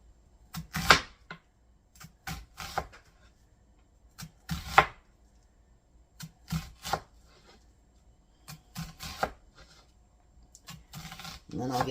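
A knife dicing a partial onion on a cutting board, irregular clusters of crisp chopping taps with short pauses between bursts, close and fairly quiet.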